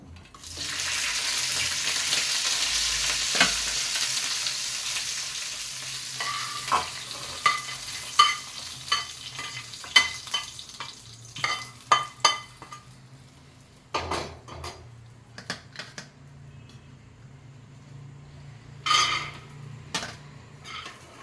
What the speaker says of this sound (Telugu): మన పల్లీలు అయితే వేగిపోయాయండి